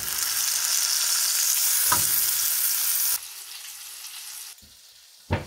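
Deer steak with garlic frying hot in a pan gives a loud, steady sizzle that drops in level after a few seconds and quietens further, with a few soft knocks along the way.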